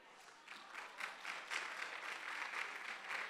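A classroom of students applauds to cast a vote on a survey question, a modest patter of clapping that swells a little partway through and holds steady at moderate loudness.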